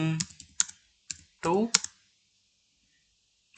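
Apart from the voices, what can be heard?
typing on a computer keyboard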